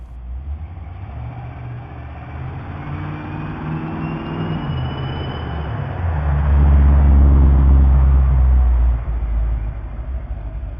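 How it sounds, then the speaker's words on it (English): A neighbor's giant modified car, built to be as loud as possible, rumbles with a deep heavy engine roar that swells louder midway through and then eases back, steady and close with no talking. "He has this giant car. He's modified so it makes the most noise it possibly could just to impress everyone."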